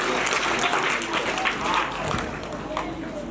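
A school gathering applauds a retiring teacher at his farewell function with continuous, crowded clapping, fairly loud and even, with a busy murmur of the audience mixed in.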